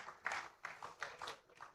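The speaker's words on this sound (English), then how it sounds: "I believe we can applaud our keynoter, our celebrant, and other guests who joined in" Audience applause at a conference honouring a professor, heard as a faint, distant patter of clapping that swells and fades in several short waves.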